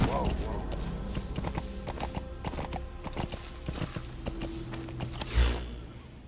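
Hoofbeats of a horse ridden in Metal Gear Solid V beat out a steady rhythm close by, with a brief whinny, game ambience and someone talking over the run.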